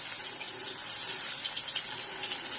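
Food sizzles in hot oil, a steady hiss with faint crackling that stays constant and fairly quiet, with no voices over it.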